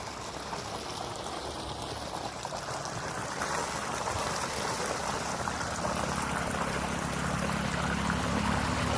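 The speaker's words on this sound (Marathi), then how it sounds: "इथं आपलं पाणी चालू झाले पाटानं" Irrigation water runs steadily along an open channel through a farm field beside a coconut tree, a continuous close rushing and gurgling that grows slightly louder toward the end, with no talking.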